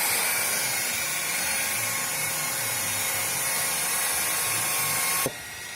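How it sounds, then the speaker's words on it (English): Small polisher buffing a detail area of a car panel with a removable coating, a steady continuous whine running close and loud throughout, cutting off abruptly near the end. "I'll show you how I address those areas with a little polisher"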